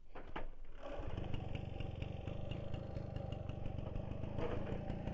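A GAC SP96 Grand Turismo moped's small engine sputters and catches after a moment, then settles into a steady, rattling idle that runs on without pause.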